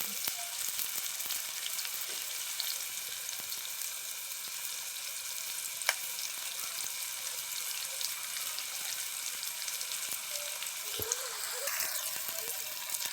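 Bitter gourd and tomato frying in a pan, a continuous soft sizzle, close and fairly quiet, with a couple of faint clinks of stirring and no speech.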